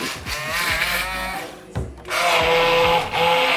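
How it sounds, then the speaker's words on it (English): A KitchenAid hand blender purees sweet potatoes for baby food, its motor whirring in loud bursts with brief dips as it moves up and down in the container, with no talk over it. "So we have the KitchenAid hand blender."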